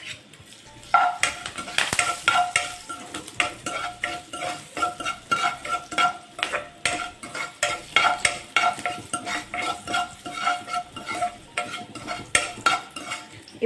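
A tempering of spices fries in a pan, a soft sizzle under rhythmic repeated stirring scrapes of a metal spoon against the pan, close and steady throughout, no voices.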